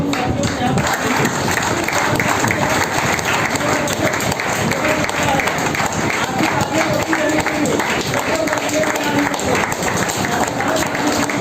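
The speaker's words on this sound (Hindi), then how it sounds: "आपकी जोरदार तालियां बजनी चाहिए।" Sustained loud applause from a large audience at a network marketing business event, dense continuous clapping filling the room with crowd voices mixed in.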